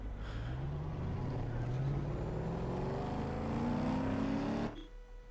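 Lincoln SUV in Need for Speed: Underground 2 on PS2, a steady loud engine drone rising in pitch through the gears as it accelerates, then cutting off abruptly near the end.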